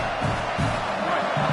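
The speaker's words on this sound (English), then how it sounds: "This crowd rising up, sensing that its defense needs some help." A large football stadium crowd at an LSU versus Oklahoma game roars continuously, a dense wall of cheering swelling to urge on the defense, with faint commentary blended underneath.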